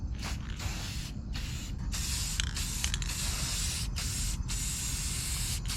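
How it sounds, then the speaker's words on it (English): Silver metallic finishing coat sprayed from an aerosol can onto car parts for an RB25DET-powered S13, heard as repeated hissing bursts of varying length, separated by short pauses, close by. "Now usually I would spray this silver metallic on it first because this has a primer in it as well"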